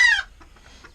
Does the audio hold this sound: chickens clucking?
yes